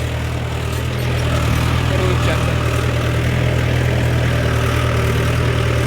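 A Mahindra tractor engine idles nearby with a steady, loud, low-pitched rumble that holds constant throughout.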